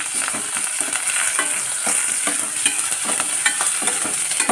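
Chopped onion, green chilli, crushed ginger and curry leaves sauté in a pan, a bright close sizzle broken by frequent scraping stirs of a spoon against the metal, steady and loud with no voices.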